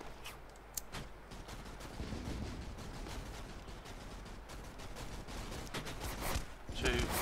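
Artillery shells landing during a battle in the video game Invasion Machine, a continuous roar of booming impacts and gunfire with sharper blasts near the start and a louder burst at the end, while voices talk over it.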